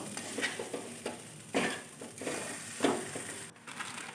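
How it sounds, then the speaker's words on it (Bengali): Grated potato filling is stirred and fried dry in a wok, with repeated scraping strokes over a soft sizzle at a moderate level. "বেশ নেড়ে নেড়ে কড়াইয়ের মধ্যে শুকনো করে একদম শুকনো করে ভেজে তুলে নেবো"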